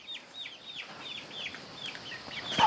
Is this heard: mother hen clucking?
yes